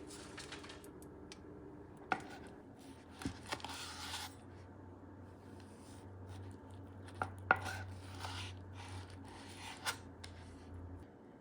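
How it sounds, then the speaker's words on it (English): A knife slicing a seared blue-rare top round steak thin against the grain on a cutting board, with scattered sharp taps of the blade hitting the board over a low steady hum, close and without speech. "Slice it against the grain. You can slice it thin."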